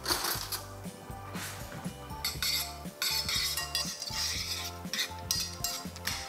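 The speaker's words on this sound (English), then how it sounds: "Give that a stir." Whisky caramel popcorn stirred in a hot pan with the heat off: a steady, close run of scraping, rattling clatter as kernels and utensil knock against the metal, with no voices.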